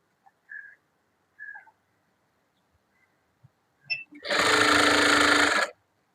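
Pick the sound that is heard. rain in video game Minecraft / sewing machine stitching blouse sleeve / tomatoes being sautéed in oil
sewing machine stitching blouse sleeve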